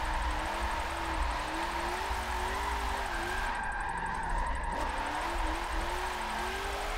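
Car engine in a Forza Motorsport 7 drift event holds a continuous high drone, its pitch wavering up and down through the drift, steady and alone with no talking.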